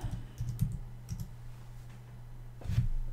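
Typing on a computer keyboard while writing PHP code: short bursts of close, soft key clicks separated by pauses, over a low steady hum.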